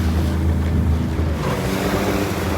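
A pilot boat charges through waves at full speed with a constant loud roar of engine, rushing water and wind buffeting the microphone. The sound is close and unbroken, with no voices.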